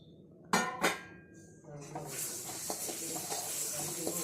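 Roasted rice, coriander, curry leaves, garlic and chillies stirred in a pan for black urad dal idli podi, two sharp metal scrapes against the pan followed by steady sizzling hiss and light rustling.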